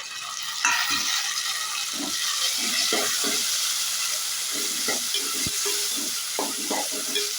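Onion and tomato frying in a pan, a steady close sizzle and hiss that runs throughout, broken by soft scraping and stirring knocks.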